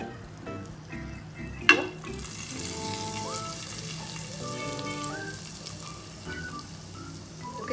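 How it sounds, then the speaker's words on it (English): Hot tadka poured into a pot of Amritsari chole sizzles loudly, with a sharp splash at the start and then a steady bubbling fry under faint kitchen tones. "Now I'll add this tadka to the chole."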